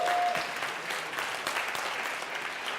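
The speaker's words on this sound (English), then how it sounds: "Yes, give them a round of applause." An audience applauds a panel of teachers at a personal-growth talk, a dense, steady wash of many clapping hands sustained evenly throughout, with no voices over it.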